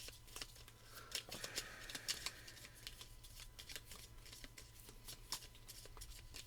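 Game cards for the Oathsworn board game are shuffled by hand, a quiet, steady run of soft riffling and flicking clicks close by with low room hum.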